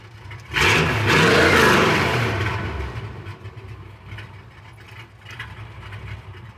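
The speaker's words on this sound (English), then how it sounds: "when you rev it up, Yeah. Sounds healthy." A Chevy C10 pickup truck engine with a Black Widow exhaust, 2.5-inch pipes and Hooker headers revs up sharply to a loud roar for about two seconds, then drops back to a rumbling idle.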